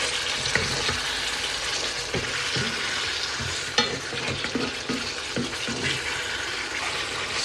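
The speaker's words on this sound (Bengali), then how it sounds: "এবার আমি যে ভাজা মাছের টুকরোগুলো দিয়ে আবার একটু কষাই নিব" Pieces of fried fish being stir-fried with spiced potatoes in a pan, a continuous hot sizzle with repeated scraping and clacking strokes of a spatula against the pan.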